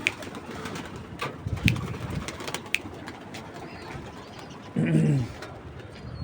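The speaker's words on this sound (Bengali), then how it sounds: "নতুন একটা কবুতর দেখা যাচ্ছে" Pigeons coo in a short, close burst of low throaty notes near the end, after scattered light clicks and flutters in a quiet outdoor setting.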